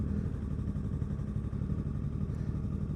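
A motorcycle engine drones steadily from close by during a ride, a low, even rumble with slight pulsing and wind, no voices over it.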